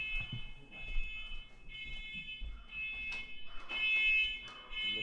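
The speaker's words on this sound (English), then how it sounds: "the fire alarm just went off in my house" A house fire alarm sounds continuously, a steady high electronic tone held throughout, with muffled room noise and bumps beneath it.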